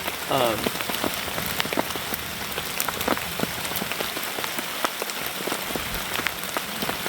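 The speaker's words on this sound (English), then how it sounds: "If it's just supposed to stay this consistent of a rain, or if we're supposed to be getting some heavy bouts of it." Steady rain patters on a camouflage camping tent and tarp, a dense constant hiss with sharp individual drop hits scattered throughout, close and fairly loud, no voices.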